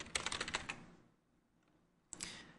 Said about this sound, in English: we'll take the text tool and we'll type Video Copilot